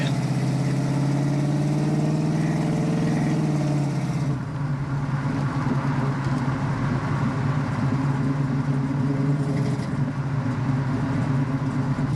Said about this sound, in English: This morning we are in my 1971 Chevrolet Chevelle with a 454 big block.